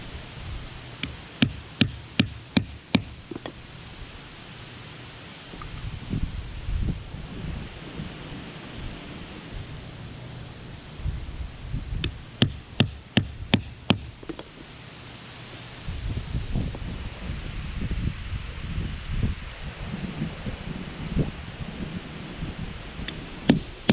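Quarter-inch bolt holes are punched in a metal rock guard for an RV tow vehicle, heard as two clusters of sharp, rapid metallic clicks over low rumbling handling noise.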